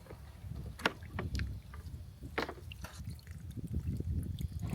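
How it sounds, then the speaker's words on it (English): Faint, continuous trickle and splash of water spilling over the rim of a cattle water tub with a leaking float, with scattered soft drips, quiet and close. "there's also a leak on the float, so that just keeps making the water overflow constantly"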